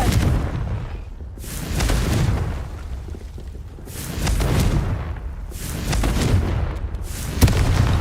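Repeated booming spell blasts from the Confringo curse in Hogwarts Legacy, several heavy explosive bursts rolling one after another at steady loudness, with a sharp crack near the end and no talk over them.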